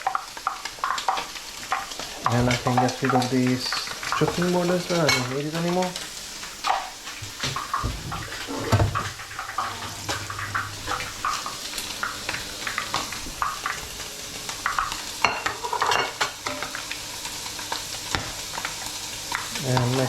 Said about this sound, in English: that pan is very hot at the moment, so what I'm going to do, I'm going to start to put the duck breasts in, skin side down always